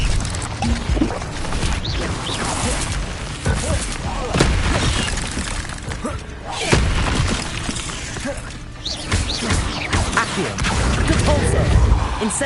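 Incendio fire spell blasts in Hogwarts Legacy gameplay land as repeated loud booms and crashing bursts amid dense combat noise, each impact sharp and close.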